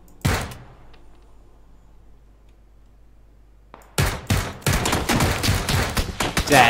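Gunfire in PUBG: a single sharp shot opens, then after a quiet pause a dense run of rapid shots and impacts, loud and close.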